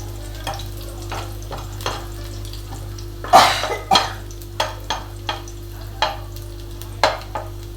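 Carrots fry in a pan, a low sizzle under a series of distinct clacks and scrapes as a utensil stirs them, roughly one knock every half second with a louder clatter in the middle, and no one speaking.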